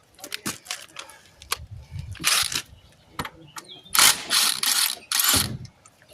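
A ratchet wrench loosens the rear wheel axle nut on a 2002 Suzuki GSF 1200S motorcycle, with several quick runs of clicking close by, separated by short pauses.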